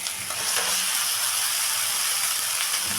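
Chicken pieces going into hot, spiced oil in a pan for a Bengali chicken kosha curry, giving a steady, close, loud sizzle and hiss that holds evenly throughout with no talk.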